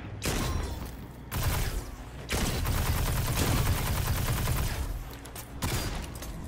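Rapid automatic weapon fire in the sci-fi shooter Destiny 2, with several long, dense bursts of shots separated by short pauses, loud and close with no talking.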